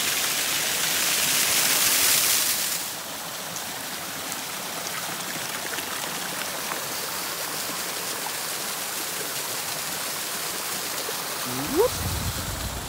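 Steady broadband rush of a waterfall on the rocky, eroded coast at Cannes-de-Roches in Gaspésie, louder in the first seconds and then a constant hiss, with a brief voice near the end.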